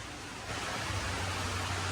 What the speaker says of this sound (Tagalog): Ulan agad. Sakto talaga pag dating ko dito sa bahay. Ulan.